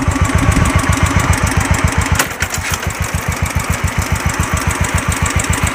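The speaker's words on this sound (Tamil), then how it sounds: "இப்படி தான் புல்லட்டை ஸ்டார்ட் பண்ணணும்" A Royal Enfield Bullet Classic 350 single-cylinder motorcycle, its self-starter clutch just overhauled, idles with a steady, loud, rhythmic thump close by, briefly dipping as the throttle settles before the even beat resumes.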